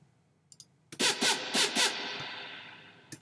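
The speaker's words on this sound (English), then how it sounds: "That's how you make some harsh rave-like super saws." Harsh rave-style supersaw synth patch built in Serum with added noise, hitting as a few loud, bright, buzzing stabs in quick succession before a fading tail, preceded by faint clicks.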